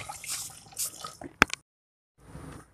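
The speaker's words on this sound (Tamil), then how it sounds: "கூடவே தண்ணி ஆட் பண்ணிக்கலாம்." Water is added to ground masala paste for Chettinad-style chicken curry, with a few short wet splashes and drips, one sharp splash in the middle, a brief silence, then a soft trickle.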